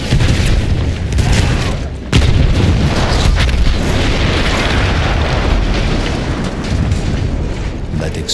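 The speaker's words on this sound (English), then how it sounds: "That explosion was one of the sweetest sights of the war for me." A loud artillery gun blast in Battlefield 1, a heavy rumbling boom that rolls on with crackling debris and a second sharp burst, dense and close throughout.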